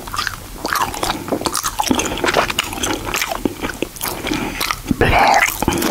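Gummy candy is chewed close to the microphone in an eating session, with wet squishy bites, sticky smacking and soft crunches in an irregular rhythm, ending in a louder squelch.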